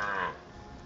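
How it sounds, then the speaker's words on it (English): Cattle on a mountain farm in the Dominican Republic give a single short, close moo that fades after a moment into quiet outdoor ambience. "So he has his cows trained."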